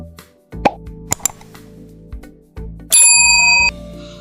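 A notification bell sound effect: a few soft plops and clicks, then a bright ringing ding tone that holds for under a second before cutting off, loud and alone.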